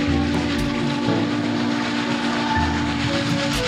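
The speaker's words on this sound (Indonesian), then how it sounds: "Di sini ada lokomotif uap kereta api." A steady hiss of steam with a sustained whistle-like tone from a toy steam locomotive, broken by a few low rumbling chugs, close and fairly loud throughout.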